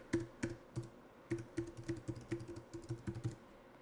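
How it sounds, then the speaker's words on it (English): Keystrokes on a computer keyboard, entering a full web link while writing HTML, come as an irregular run of close, crisp taps in quick clusters with brief pauses, with no talking. "Then the href, I type in, let's link that to rapid4x.com. Type in the full link."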